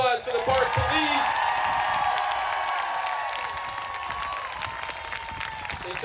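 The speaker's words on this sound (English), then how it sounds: "Big round of applause for the park police" A rally crowd at a Washington DC march applauds and cheers for the park police. The dense clapping comes with whoops and shouts, loud at first and then gradually thinning.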